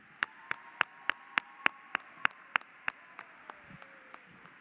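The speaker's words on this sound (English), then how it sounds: "let's get a round of applause for all of our star sponsors" A round of applause at the Illinois FFA state convention session is carried by a crisp, steady beat of about fifteen even hand claps, loud at first and fading toward the end.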